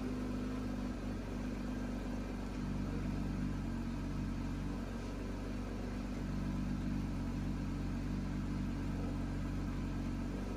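A new Porsche with a naturally aspirated engine idles steadily just after a cold start, a continuous low, even drone with a faint mechanical hum, heard alone at moderate distance.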